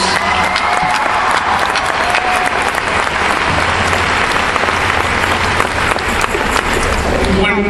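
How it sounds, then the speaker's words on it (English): A crowd at a graduation ceremony claps loudly and continuously, a dense burst of applause that keeps going from start to finish. "Let's give everybody a round of applause"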